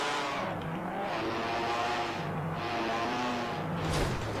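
Red Bull Formula One car in a racing game mod, accelerating hard in second gear: a loud, continuous high-pitched engine howl that rises steadily in pitch, with a sharper surge near the end and no talking.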